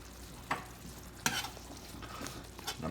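Beans and onion heat together in a pan, with a few sharp scraping stirs of a spoon standing out over a faint, steady sizzle, no one talking.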